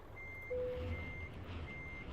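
Reversing beeps from a truck in the game Euro Truck Simulator sound as a few evenly spaced, fairly faint electronic tones over a low engine rumble. Nobody speaks.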